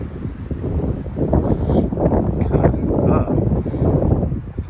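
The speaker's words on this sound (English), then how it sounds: "Listen to that wind." Wind gusting outdoors, a loud, rumbling low roar of buffeting against the microphone that swells and eases over several seconds, with faint rustling.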